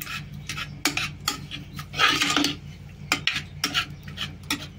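A spoon scrapes and clinks against a pot while stirring cooked dal with a little salt, uneven rubbing strokes with sharp metallic taps, fairly close and with no talk.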